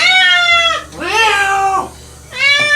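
A cat meows loudly and repeatedly while being bathed in water it hates, three long drawn-out wailing cries close up with short pauses between them.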